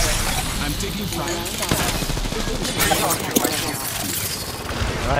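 Dense, rapid bursts of gunfire crackle in an Apex Legends firefight, shots overlapping in quick volleys with sharp peaks, voices faintly mixed in underneath.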